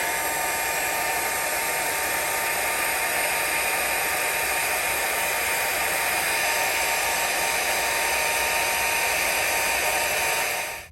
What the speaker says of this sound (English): we're going to use the heat tool and we're going to